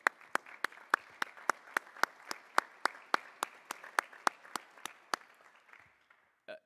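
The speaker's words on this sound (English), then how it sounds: "can we please give them a round of applause?" Audience applause at an Army ROTC commissioning ceremony for cadets becoming lieutenants, heard as sparse, evenly spaced individual claps over a soft wash of clapping that fades out near the end.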